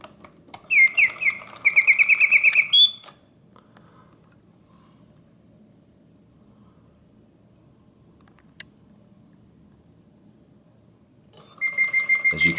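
A Reuge double singing bird cage music box trills out bursts of mechanical birdsong, rapid warbling chirps in two short phrases, then falls silent through a long pause before the trilling resumes at the end.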